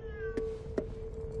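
A cat meowing in the video game Ghostwire Tokyo, a clear tonal meow held steadily at moderate volume over a low background hum, with a couple of soft clicks.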